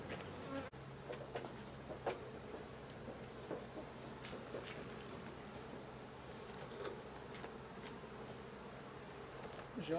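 Honeybees buzz around a hive outdoors, a faint, steady hum of many insects lasting throughout, with a soft knock near the start and occasional light rustling.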